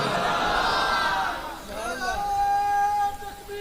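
A crowd at a religious gathering chants and calls out together, a dense swell of many voices that fades midway, leaving a tonal, sustained voice or chant over background murmur.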